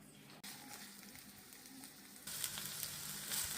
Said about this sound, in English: Now we're going to put some olive oil in the hot pan